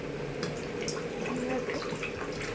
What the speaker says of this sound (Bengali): আমি এর মধ্যে একটু জল অ্যাড করে দেবো।